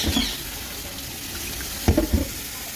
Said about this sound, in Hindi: ये मैंने आलू काट दिए हैं, अब इसको अच्छे से वॉश करेंगे।